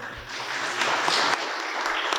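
Steady applause from a crowd, a dense wash of clapping that holds at an even level for a couple of seconds.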